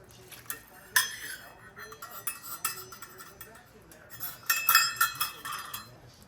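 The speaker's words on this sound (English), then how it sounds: "we're gonna scrape the bottom of the pan just to deglaze it" A utensil scrapes and clinks against the bottom of a pan during deglazing with broth in a home kitchen, making irregular metallic scrapes and taps, some sharper, with a voice speaking faintly in the background.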